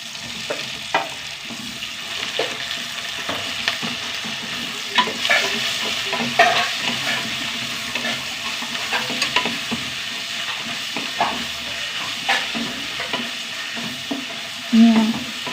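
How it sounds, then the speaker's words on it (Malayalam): Onion and tomatoes sautéing in a pan, with a steady low sizzle broken by repeated scraping and stirring strokes at an irregular rhythm, heard up close with no talk. "തക്കാളി ഒന്ന് വഴണ്ട് വരട്ടെ"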